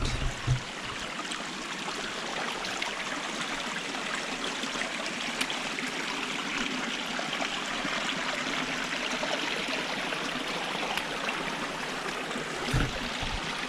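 Creek water flowing over rocks, a steady close babbling and trickling rush that continues evenly throughout with a few brief knocks near the start.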